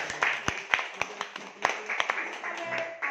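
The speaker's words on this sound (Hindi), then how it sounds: "तो ताली बजाइए ना इस पे।" Audience clapping at a gathering, heard as a few scattered, uneven claps with a speaker's voice running over them.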